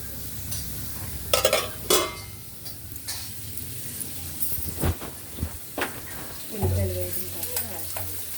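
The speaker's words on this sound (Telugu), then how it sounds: "ఉల్లిపాయలు వేగిన తర్వాత ములంకాయలు ఇలా వేస్తున్నారు." Onions frying in a pan, with a soft sizzle under repeated scraping and stirring knocks from a utensil, close up.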